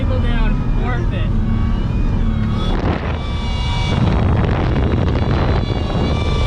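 A Toyota Tacoma pickup ploughs through snow with a steady engine rumble and crunching, buffeting wind noise on the microphone, loud and close throughout, while a person talks over it.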